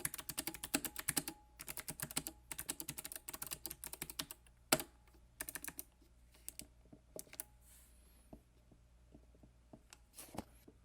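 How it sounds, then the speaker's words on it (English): Keys clatter on a Havit KB395L low profile gaming keyboard resting on a flat surface, in quick bursts of close, crisp clicks separated by short pauses, growing sparser toward the end. "I'm just going to do a little bit of typing on this"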